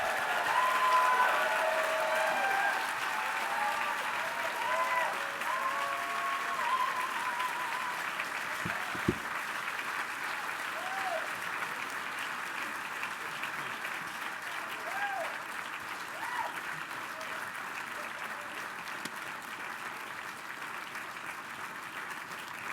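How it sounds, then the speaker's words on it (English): Sustained audience applause fills the hall at the 2017 National Design Awards gala, a broad, even roar of many hands that holds steady for over twenty seconds and slowly eases. "please give them an even louder round of applause than you gave for me"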